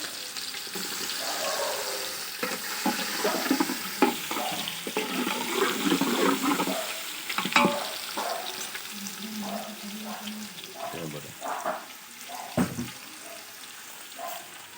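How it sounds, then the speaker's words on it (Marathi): Spices tempered in hot oil (phodni) while vadas cook during a Konkan village rakhan celebration, with sizzling and bursts of crackle over fifteen seconds and occasional background voices and clatter. "फोडणी दिली."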